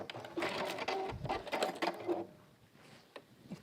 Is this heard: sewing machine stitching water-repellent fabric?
yes